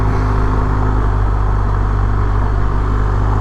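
A BMW motorcycle engine held in second gear while riding down a rutted mountain trail, a steady loud mid-pitched drone with wind rush, unbroken and close.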